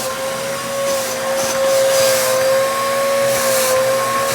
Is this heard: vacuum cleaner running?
yes